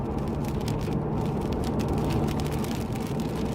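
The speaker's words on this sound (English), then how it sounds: "And the sound you hear is rain." Dense, steady rushing noise fills the whole stretch, heavy rain drumming on a moving Lexus RC F while it drives, with a low engine rumble beneath.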